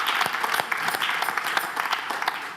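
A church congregation at a women's choir event applauds the choir's founder, clapping steadily and fairly close for the whole stretch, with no cheering and no voice above the hands.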